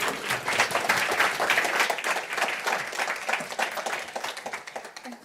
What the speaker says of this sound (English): another round of applause for the incredible Pamela